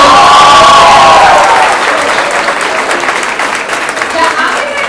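A large audience at a finance education event applauds and cheers, a dense loud wash of clapping and crowd noise that swells at first then settles into steady applause, with a voice and music tones faintly underneath early on.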